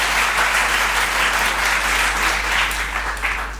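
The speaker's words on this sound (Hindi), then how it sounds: "जोरदार तालियों से एक बार" Loud, sustained audience applause fills a hall at an official gathering honouring UPSC-selected district officers at a college, a dense steady wash of clapping that fades slightly toward the end.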